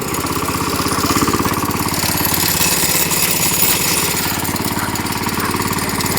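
A walk-behind tractor engine drives through deep snow, giving a loud, close, continuous rapid chugging and knocking drone that holds steady throughout.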